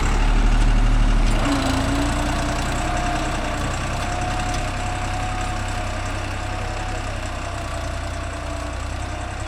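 A Deutz-Fahr Agrolux 50 hp tractor with a 15+15 gearbox runs its engine at a steady, loud idle, with a continuous low rumble and a brief rise near the start.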